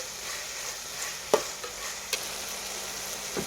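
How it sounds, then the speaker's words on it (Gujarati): Tomatoes and chillies fry in a pan with a low, steady sizzle while a spoon stirs, giving a few sharp scraping knocks against the pan, close and without any talk. "જો આ ટમેટા અને મરચાં એ પણ નાખી દીધા છે, જો સરસ મજાના એના બધું મિક્સિંગ થઈ રહ્યું છે"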